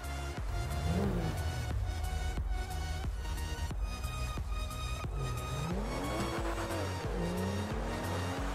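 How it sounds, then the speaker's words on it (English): The Comet, a fast Porsche-like sports car in GTA 5, is driven hard: a loud continuous engine roar with rising and falling revs through repeated gear shifts, and occasional tire squeal. "Now, this one is a big car, it's a Comet vehicle"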